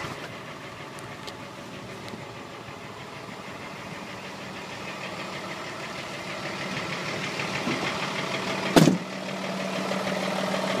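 A 2005 Hino 268 truck's engine runs at a steady, close, knocking idle, with one sharp clunk near the end and no talking.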